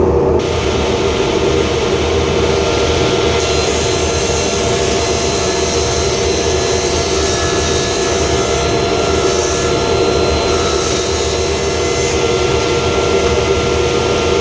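A resaw machine runs with its dust collector attached, a loud, steady roar with a constant whine. The noise holds unchanged throughout, with no talking.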